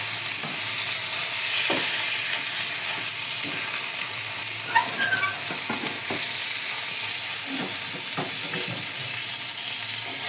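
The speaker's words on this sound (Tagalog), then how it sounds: "Halo-haloin mo lang para hindi siya matutong-tutong." Food frying and sizzling in a pan while a utensil stirs it, with scattered scrapes and knocks against the pan over a steady hiss; no talking.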